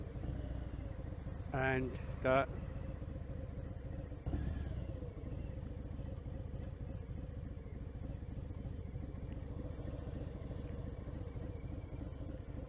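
Harley-Davidson Fat Bob 114 motorcycle with a fresh oil change, parked on flat ground, idling in a steady low rumble close by. A voice speaks briefly over the engine, and a few clattering knocks come near the start.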